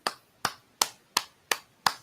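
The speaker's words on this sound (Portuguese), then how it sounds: "Tem que bater palma, né" Six crisp hand claps at a steady, even pace mark the anniversary of a metal album. They sound close and sharp, with quiet gaps between them.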